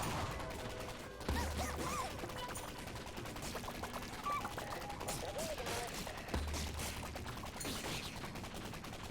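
SMG in Atomicrops firing in rapid, dense bursts over a busy mix of game effects, with crashing hits and small chimes scattered throughout.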